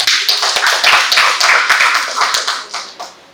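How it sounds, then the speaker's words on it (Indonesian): Audience clapping for a group of women, a close, loud burst of many hands with distinct sharp claps that holds for a few seconds and then tapers off into a few scattered final claps. "Tepuk tangan untuk perempuan ini"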